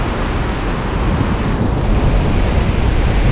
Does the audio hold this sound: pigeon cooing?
no